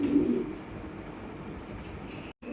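A pigeon coos softly at a pigeon farm, a brief low murmur at the start, then quiet background hiss with a short dropout near the end.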